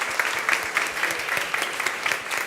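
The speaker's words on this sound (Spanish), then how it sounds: "Un aplauso." Audience applause for the panel speakers at a session of an international ALS congress, a steady clatter of many hands clapping through the whole stretch, moderately loud and close.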